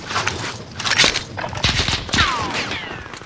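Bursts of gunfire crackle in a Call of Duty Warzone trios match, rapid volleys and single shots scattered over a few seconds, fairly loud and close, with no talk over them.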